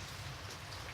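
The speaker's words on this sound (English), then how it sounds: "Rain washed down it, as with the front door's window" Rain pouring down a window as an eerie story sound effect, a dense, steady close hiss of drops with nothing else over it.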